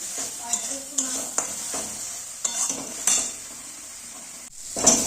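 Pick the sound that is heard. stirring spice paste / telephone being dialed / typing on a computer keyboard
stirring spice paste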